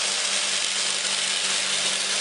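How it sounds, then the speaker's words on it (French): An industrial saw cuts logs into sections a few metres long, a loud, unbroken high whine and grinding roar held at a steady level throughout, with no speech. "les grumes sont sélectionnés pour être découpés en tronçons de quelques mètres à l'aide de cette scie industrielle"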